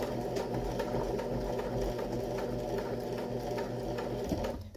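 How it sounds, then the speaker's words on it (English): A sewing machine stitches fabric in a rapid, steady mechanical chatter. It runs close and continuous for several seconds, then stops abruptly at the end, with no talk over it. "And then I just stitch right onto it."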